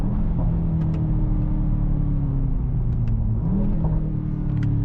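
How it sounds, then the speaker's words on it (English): A Mercedes-AMG GT 63 S E Performance hybrid with a nine-speed multi-clutch transmission hums from inside the cabin as the engine climbs and eases through the rev range, a steady, dense rumble with gentle pitch swells. "You can go through the rev range."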